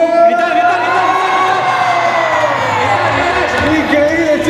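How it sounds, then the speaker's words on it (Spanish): A crowd at a gala shouting and cheering together, a loud, sustained mass of whoops and yells that holds strong for several seconds with no break. "me gustaría que lanzásemos un grito entre todos"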